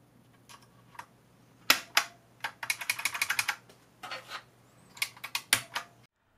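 Bursts of crisp, clacky keystrokes on an IBM Model M buckling spring keyboard, close and distinct, coming in quick irregular runs with short pauses between, alone without speech.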